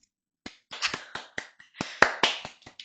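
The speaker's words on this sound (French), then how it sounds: "bravo, ça s'applaudit." A few hands clap in a sparse, irregular pattern at a French TV studio interview, close and fairly quiet, with no talking over it.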